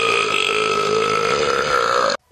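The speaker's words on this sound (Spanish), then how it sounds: "si le das así, eructa más fuerte todavía" A loud, sustained burp rolls on without a break for about two seconds, then cuts off sharply into near silence, close and dominant with no talk over it.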